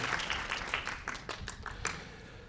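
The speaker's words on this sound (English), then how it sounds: "Let's clap it up for her." An audience at a national Head Start conference workshop applauds, a brief burst of scattered clapping from a room full of people that tapers off within a couple of seconds.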